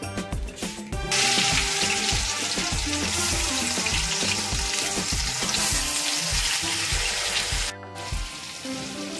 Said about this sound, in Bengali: তেলটা আমার গরম হয়ে গেছে। এবারে আমি যে ম্যারিনেট করে রেখেছিলাম ঝিঙেগুলোকে, সেগুলোকে আমি এখন ভেজে নিচ্ছি।